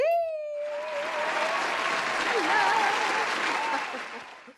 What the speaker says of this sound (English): let's go ahead and give it up a round of applause for Dr. Z